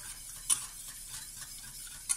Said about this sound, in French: Vous mettez la casserole sur le feu et vous touillez, sans vous arrêter.